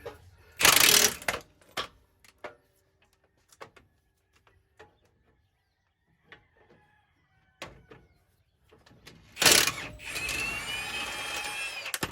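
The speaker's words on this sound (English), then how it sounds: "The bottom bolt, I'm able to get the impact wrench in there. So I'm just gonna put the impact on, and again it's a 21mm." An impact wrench on a 21mm bottom brake caliper bolt of a Chevy 3500 Duramax diesel dually fires in two loud, close rattling bursts, the second longer. Scattered light clicks and handling noises fill the quiet gap between them.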